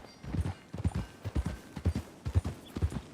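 A horse walks in Red Dead Redemption 2, and its hooves clip-clop in a steady, even rhythm of close, crisp thuds throughout, with no talk over them.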